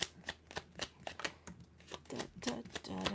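Tarot deck being shuffled by hand at a candlelit reading, a run of quick riffling card snaps and soft slaps close up, with a voice talking briefly toward the end.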